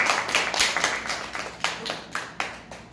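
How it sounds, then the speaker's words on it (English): A small Toastmasters club audience claps for a speaker, a thin, loose patter of individual claps that thins out into a few scattered final hits. "Let us give her a thunderous round of applause"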